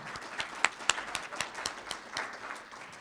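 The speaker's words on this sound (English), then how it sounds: "Let's give Pastor Jones another round of applause for all of his hard work" A round of applause at a church event honoring a pastor, a moderate crowd clapping at a fairly distant, soft level, with a few sharper individual claps standing out and no talk over it.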